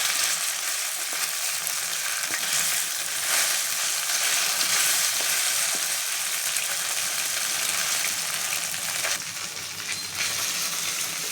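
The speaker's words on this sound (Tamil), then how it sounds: "இட்லியை 2 நிமிஷம் எண்ணெயில் பொறிச்சு வச்சு எடுத்து வச்சுக்கோங்க" Small pieces of idli fry in hot oil, giving a steady, loud, close sizzle that runs unbroken throughout, with no voices.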